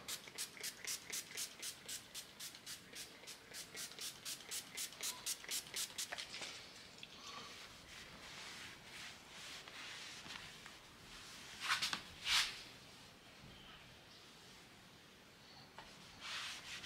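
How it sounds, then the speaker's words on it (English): Van surfaces on a Mitsubishi Express L300 being wiped with alcohol: quiet, rapid rhythmic rubbing strokes for several seconds, then softer scattered wiping with a couple of brief louder swipes. "I'll use the alcohol to wipe any surfaces where it's going to be sticking to."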